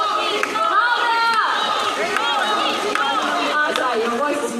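A live crowd at a bird show in Jurong Bird Park, Singapore, clapping and shouting a macaw's name, Cocky, in a loud, steady mass of voices and applause with no breaks.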